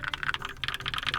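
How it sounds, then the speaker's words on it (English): Quick, steady typing on a Keychron K2 aluminum-body mechanical keyboard, with crisp clacky keystrokes close by and no voices. "the keyboard sounds nice"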